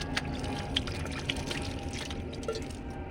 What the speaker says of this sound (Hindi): अब देखिए इसमें हल्का हल्का पानी डालूंगी, ज़्यादा नहीं, बस इतना डालूंगी